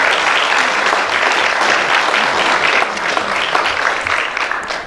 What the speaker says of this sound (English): So we give a round of applause to Janine and her wonderful business